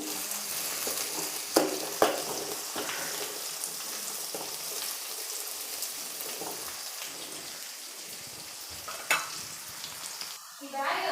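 Onions fry in plenty of oil for masala upma, a steady crackling sizzle broken by a few scraping stirs of a spoon in the pan, close and clear with no talk.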